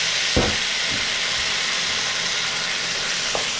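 Tomatoes sizzling with nearly translucent onions in a hot pan while they are tipped in and stirred, a steady close frying hiss with a few soft knocks and clatters.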